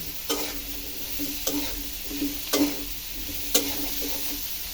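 Potato pieces fry in a pan under a soft sizzle, broken by four sharp scraping strokes of a spatula at roughly one-second intervals, close and unaccompanied by speech.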